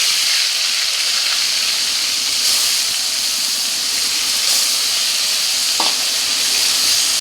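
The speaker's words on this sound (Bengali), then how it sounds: "তেলটা গরম হয়ে গেছে, মাছটা দিয়ে দেবো। তো মাছটা রান্নার মতো করে ভেজে নেব।" Fish frying in hot oil in a kadai, a steady loud sizzle and hiss that holds through the whole stretch, with faint stirring scrapes and a brief spatter near the end.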